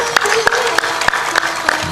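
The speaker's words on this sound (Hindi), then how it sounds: "जोर से ताली बजाया करो" Loud audience clapping in a spiritual discourse hall, a dense steady patter of many hands with a few sharper claps standing out, continuing for about two seconds.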